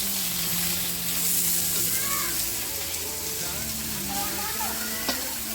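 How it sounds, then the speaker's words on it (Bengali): Pieces of rohu fish fry in a pan at home, giving a continuous soft sizzle and crackle with occasional stirring, while a voice talks quietly in the background. "আমার মা এখন মাছটা ভাজছে"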